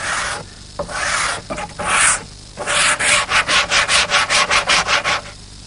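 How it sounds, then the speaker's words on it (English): Wood is sanded by hand with 60 grit paper wrapped around a dowel: close, scratchy strokes, first a few longer irregular passes, then a quick even run of about a dozen rhythmic back-and-forth rubs, with no speech. "60 grit paper, and I'll just wrap it around a dowel as a form, and just keep sanding it until I start to take it down."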